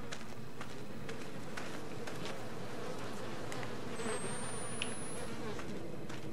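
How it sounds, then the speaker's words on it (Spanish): Flies buzz in a grimy, eerie environment in the horror video game Outlast 2, a steady droning hum close by with faint footsteps and soft background ambience. "Aquí hay moscas, hay de todo."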